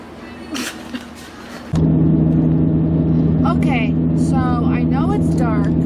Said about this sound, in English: I'm driving in my car